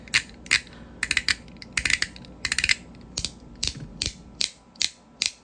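Sharp metallic clicks and clinks from fidget toy coins come in irregular clusters and single taps, close and fairly crisp over a quiet background.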